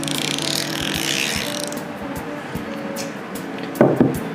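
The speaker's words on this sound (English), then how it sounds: "80 tooth ratchet with an extra long handle" Fine rapid clicking of a 24K gold-plated Snap-on 80-tooth ratchet with an extra-long handle, an older model without quick release, close and continuous, ending in a couple of louder clunks.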